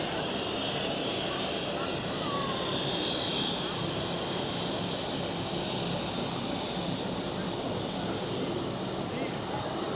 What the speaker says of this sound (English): An Aegean A320 outbound to Athens.